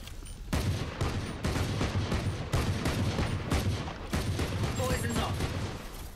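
Killjoy's automated turret fires in a Valorant match, giving repeated bursts of rapid shots in a steady rhythm, loud and close, with in-game mechanical clatter around them.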